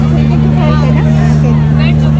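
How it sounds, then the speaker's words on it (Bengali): A boat's engine drones steadily and loudly on the river at the Kumbh Mela in Prayagraj, heading toward the Sangam, while people chatter nearby throughout. "আমরা এখন নৌকাতে উঠেছি"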